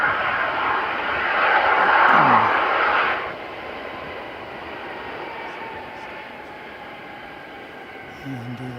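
Airliner engine roar near an airport, loud at first then easing into a steady distant rumble, with no talk.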